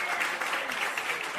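A short, steady burst of applause from a group at a live online gathering, a dense even patter of clapping lasting just over a second.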